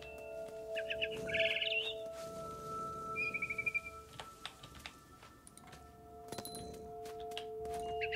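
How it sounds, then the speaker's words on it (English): A barn swallow chirps outside a window in What Remains of Edith Finch, giving a couple of short twittering phrases over a steady hum of game ambience, followed by faint clicks and ticks. "Then I heard chirping outside my window."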